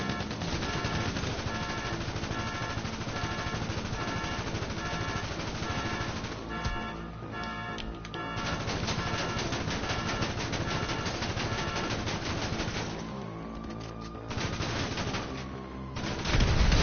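Sustained bursts of rapid automatic gunfire in GTA 5, loud and close, nearly continuous for the whole stretch with only brief pauses between volleys and no talk.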